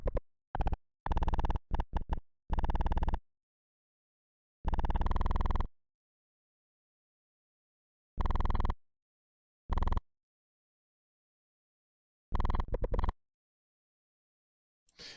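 Low wavetable synth notes from Pigments 4, set up for a lo-fi sound, play in short separate bursts of varying length with silent gaps between them, fairly quiet and with no other sound.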